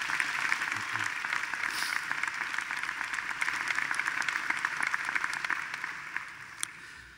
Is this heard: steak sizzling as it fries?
no